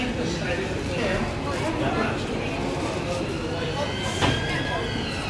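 A DLR train sits at a station with a steady mechanical rumble and hum, moderately loud and constant, with a brief higher squeal near the end.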